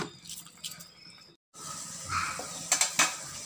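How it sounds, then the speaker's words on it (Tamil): An anchovy fish curry bubbles and simmers in a cooking pot, soft liquid burbling that cuts out briefly before returning with faint clinks and hisses close by. "நல்லா கொதிக்கட்டும்."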